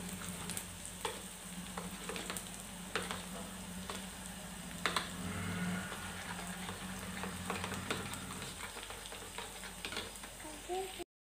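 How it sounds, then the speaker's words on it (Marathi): Four beaten eggs with salt being stirred, probably in a bowl, with repeated clinking, scraping strokes over a steady soft sizzle of onions frying in the background. "मी आता त्याच्यामध्येच मीठ टाकून देते. तर मी चांगलं व्यवस्थित ते ढवळून घेते."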